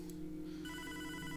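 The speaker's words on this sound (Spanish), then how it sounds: "El teléfono." A telephone rings in the video game Hotline Miami 2: Wrong Number, a short electronic trill that starts partway through over a steady low game hum, brief and fairly quiet.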